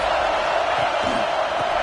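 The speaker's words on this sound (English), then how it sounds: "This crowd ready to make its presence known." A stadium crowd in a football video game roars in a steady, loud wash of cheering that fills the whole moment without break.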